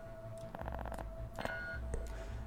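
In the video game Cryptark, an alarm beeps in repeated rapid electronic pulses, mixed with other game effects and a steady tone over low background rumble.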